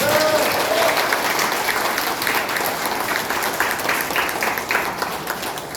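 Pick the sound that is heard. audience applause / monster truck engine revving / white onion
audience applause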